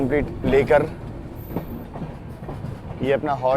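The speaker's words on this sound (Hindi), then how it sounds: "सामने से आ रही है श्री माता वैष्णो देवी कटरा से चलकर पुणे को जाने वाली झेलम एक्सप्रेस" Jhelum Express rolls through Pathankot Cantt station with steady wheel clatter and rumble, while voices talk over the train noise throughout.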